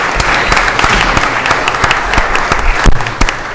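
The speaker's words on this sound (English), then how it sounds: "Come on, get your applause." Audience applause at a city council meeting, loud sustained clapping from a roomful of people with a few sharp individual claps standing out, continuing steadily throughout.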